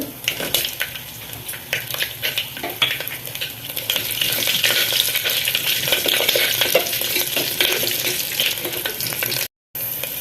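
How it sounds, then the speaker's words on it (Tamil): Cumin, whole dried chillies and garlic crackle and sizzle in hot oil, a continuous bright frying hiss with spatula scrapes and light pan knocks, close up, with a brief dropout near the end. "ஜீரகம் காஞ்ச மிளகா நான் அப்படியே தான் முழுசாக போடுறேன் பூண்டு"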